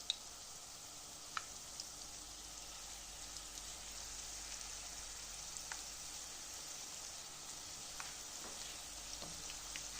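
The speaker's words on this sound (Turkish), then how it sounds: "Yavaş yavaş çevirerek kızartacağım." Oil sizzles steadily in a pan as rolled pastry börek fries, with occasional faint pops and clicks.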